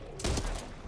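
A quick burst of two or three gunshots fires in a Minecraft game session, sharp and close, over a low background.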